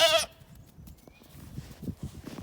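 A goat gives one short bleat near a hot-wire fence, followed by quieter rustling and shuffling sounds close by.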